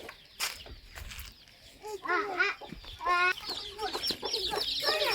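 A hen clucks in a village yard, a series of close, throaty repeated clucks and short rising calls, with people talking nearby and other farm noises in the background.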